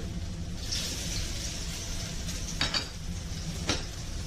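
Garlic and ginger frying in hot smoking oil in a wok, a steady soft sizzle with clinks of a metal utensil against the pan and a few short scraping stirs, fairly quiet and close.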